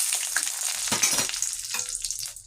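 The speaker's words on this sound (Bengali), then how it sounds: "এরপর আমি কাজু কিশমিশটা একটু দিয়ে দেব ঘিয়ের উপর" Cashews frying in ghee with bay leaf and whole cardamom for carrot halwa, a steady close hiss and crackle of sizzling with occasional stirring scrapes, continuous throughout.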